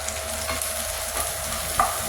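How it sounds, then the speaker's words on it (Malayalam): Curry leaves and coconut pieces sautéing in oil, a loud close sizzle with a stirring spatula scraping the pan and a brief clink near the end, no voices. "കറിവേപ്പിലയും തേങ്ങാക്കൊത്തും വഴറ്റുവാണ്"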